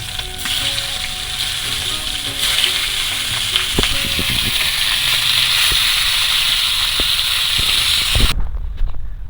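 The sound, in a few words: silver carp fish frying in oil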